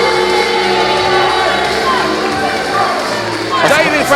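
A wrestling crowd at a Future Pro Wrestling Halloween show roars and jeers at David Francisco, a continuous loud wash of shouts and whoops under a commentator's voice, swelling briefly near the end.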